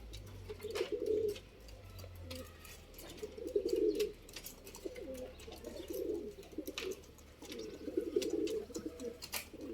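Pigeons coo in repeated low, throaty bursts at close range, roughly four rounds over the stretch, with no talk and a faint steady background hum.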